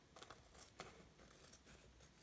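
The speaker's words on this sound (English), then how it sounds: "what I'm gonna do now is I'm gonna cut these edges off" Scissors snip through the edges of handmade shaker tags: a few quiet, crisp cuts in quick succession, close by and otherwise alone.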